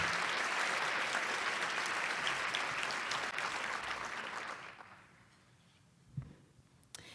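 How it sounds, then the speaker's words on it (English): An audience at a women's foundation annual luncheon gives a loud, sustained round of applause that fades out after about five seconds, leaving quiet room tone and a couple of small knocks. "can we just give the Iowa Women's Foundation a round of applause"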